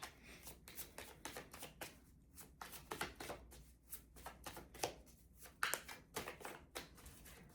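Tarot cards are shuffled in quick repeated riffling bursts, a rapid papery flutter with soft slaps between. It is close and fairly quiet, with no talk.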